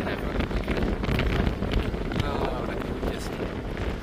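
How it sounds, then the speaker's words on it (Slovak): Strong wind blows on the coast of São Miguel in the Azores, a loud, constant roar buffeting the microphone. "tu veľmi fúka"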